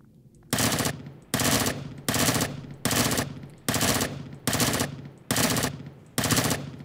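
Rapid bursts of automatic gunfire in the sci-fi survival game Empyrion: Galactic Survival, about eight loud, evenly spaced volleys roughly 0.7 seconds apart, each a dense rattle of shots, with no talking.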